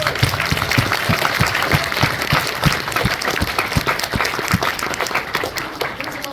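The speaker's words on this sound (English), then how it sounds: "round of applause for Panini" An audience at a convention panel claps in a sustained, dense round of applause, steady and fairly loud throughout.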